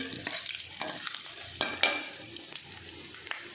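Coriander, fenugreek and cumin seeds hitting hot oil in a pan for Punjabi kadhi pakora, a close crackling sizzle with scattered sharp pops and stirring scrapes over a few seconds, with no talking.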